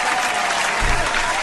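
Applause sound effect played on a podcast show, a short, uniform burst of crowd clapping with a dense, even texture and no talk over it.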